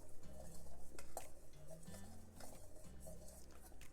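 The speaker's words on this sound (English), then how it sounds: "just keep stirring regularly until it's all completely melted" Melting beeswax is stirred in a pot for homemade leather conditioner, with soft scraping and clinking strokes repeating unevenly against the metal, close and quiet, without talk.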